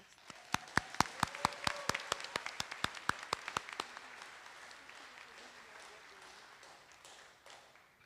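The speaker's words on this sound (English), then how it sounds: "let's please give him a round of applause" A crowd applauds at a 2022 vocational high school graduation, sharp individual claps ringing out close and clear at first, then thinning into softer, more distant clapping as it fades with a murmur of voices.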